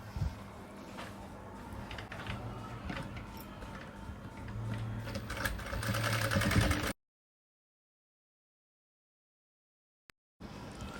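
A sewing machine stitching a folded quarter-inch hem on a kids' shirt, a steady mechanical whirr and rapid ticking for about seven seconds before cutting to silence, then resuming briefly at the end.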